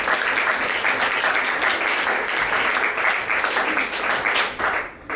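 Sustained applause from a conference audience fills the hall, steady and dense throughout before tapering off near the end.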